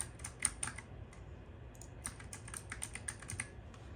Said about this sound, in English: And then here you just type in your passphrase